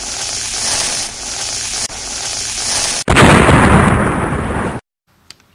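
A Magnus Fireworks Spacewalking 200-gram cake fires outdoors: a loud hissing rush of launches, then a sharp blast and a dense crackling roar that cuts off into silence, followed by one faint distant pop.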